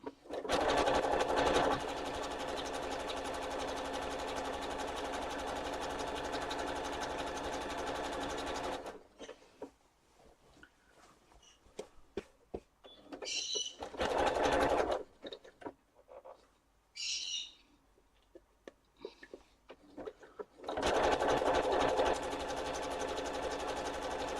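A sewing machine stitches a quilt block in long, steady humming runs of rapid needle strokes, broken by quieter stretches of short start-stop bursts and faint handling clicks before the loud whir resumes.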